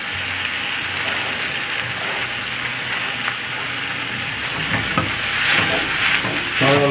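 Onion, pepper, eggplant, zucchini and tomato sauté in a hot pan with a loud, continuous sizzle, broken by a few stirring scrapes near the end.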